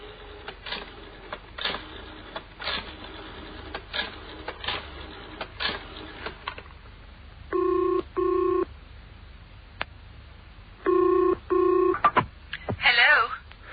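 A telephone is dialled with a series of rhythmic clicks, then two long buzzing rings sound on the line as the call to a frozen-foods factory goes through, ending in a brief voice.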